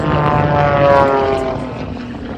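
An aerobatic propeller aircraft performs hammerheads, torque rolls and knife-edge passes at the Southport Airshow, its engine drone loud and steady, swelling slightly mid-pass and easing off, with no voices over it.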